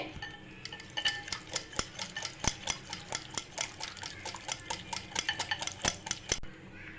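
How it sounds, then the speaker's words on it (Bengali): A yogurt and semolina batter is whisked briskly in a bowl, making a fast, rhythmic run of sharp clicks and taps against the sides, close and steady for several seconds, with no voices. "দই আর সুজির মিশ্রণটা আমি ভালোভাবে ফেটিয়ে নেব, যেন কোনো না দলা না থাকে এর মধ্যে"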